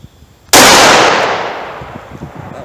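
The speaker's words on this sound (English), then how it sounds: "we'll see if we can hit it with these magnums in this little short barrel revolver." A Taurus 605 short-barrel revolver fires a magnum round outdoors as a single sharp, very loud crack, followed by a long decaying ringing echo that fades over about two seconds.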